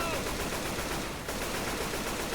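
Dense automatic gunfire in the zombie shooter Left 4 Dead 2, a continuous rapid rattle of shots at moderate level filling the whole stretch with no pauses.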